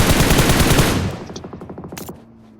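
Automatic rifle fire in an online shooter game, a loud rapid burst that thins into spaced trailing shots with echo, no voices over it.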